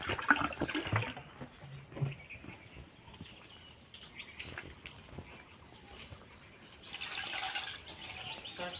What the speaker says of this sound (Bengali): সেই জন্য আমি চালগুলো ধুয়ে দেবো।